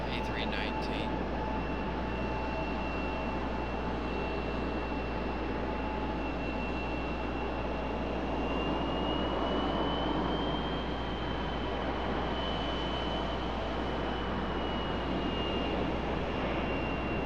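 An American Airlines Airbus A319 arriving gives off a steady, fairly distant jet roar with a thin sustained whine riding above it, unchanging in level for the whole stretch.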